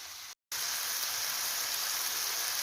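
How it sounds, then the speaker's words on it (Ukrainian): Steady, dense sizzling of tomatoes frying in a pan, a continuous crackling hiss broken by one brief silence near the start. "І зараз я буду обсмажувати помідори"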